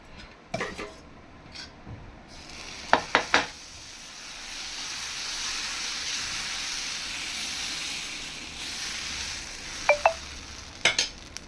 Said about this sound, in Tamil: ஸோ இன்னொரு தோசை விட்டுக்கலாம்